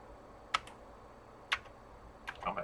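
A few separate keystrokes on a computer keyboard entering a load command for a Commodore disk drive, three sparse taps then a short cluster, close and quiet with no voice.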